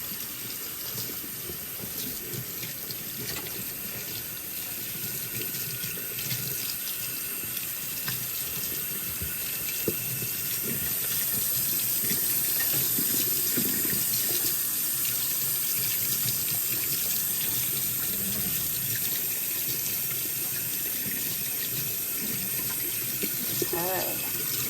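Hot tap water runs steadily over a wire tree decorated with glass beads, a continuous splashing stream at close range that gets slightly fuller partway through.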